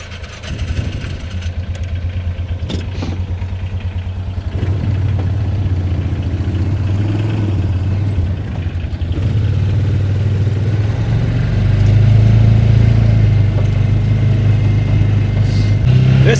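A four-wheel-drive truck hauling logs out of a wooded pasture climbs a slight incline, its engine droning steadily and growing louder as it works harder, with no talking.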